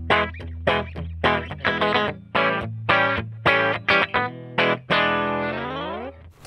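An electric guitar played clean through a Fender Blues Deluxe tube amp with no effects, a run of plucked notes and chords ending on a ringing, sustained strum.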